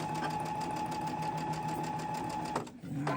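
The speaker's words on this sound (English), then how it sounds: "I'm just going to show part of my sewing" A sewing machine stitches quilt rows with a steady, close whirring drone and a rapid mechanical rhythm, then briefly stops before starting again near the end.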